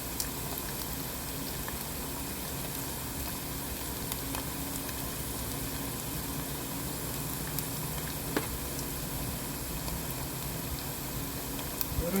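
Chicken skin frying in hot oil gives a steady, dense sizzle that stays loud and even throughout, with a few faint clinks near the end.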